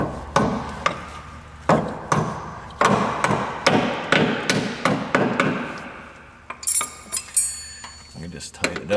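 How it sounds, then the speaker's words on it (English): Repeated hammer taps seating a brake hose clip into place during a brake hose replacement, a steady series of sharp metallic knocks at close range, a few lighter clinks near the end. "this is the part where we'll need our hammer, tap it back into place."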